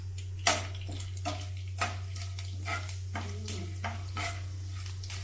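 Cumin, mustard seeds, chana dal and urad dal sizzling in hot oil for a tempering, with scattered crackles and pops over a soft, steady frying hiss and a low background hum.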